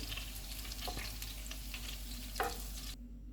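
Malai seekh kebabs frying in a pan, a quiet continuous sizzle with a low hum underneath and a few faint clicks, cutting off abruptly at the end.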